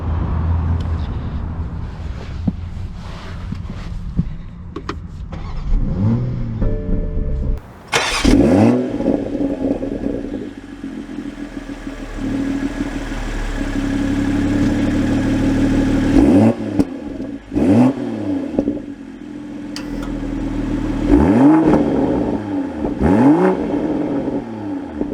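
A 2023 Toyota Supra 3.0 Premium cranks, starts and revs, then pulls away with repeated rising acceleration sweeps and gear changes, loud and close, with no talking.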